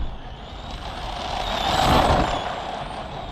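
A budget RC car running at full throttle on a 3S battery makes a steady high whine with a broad hiss that swells to a peak midway as it comes nearer, then eases off.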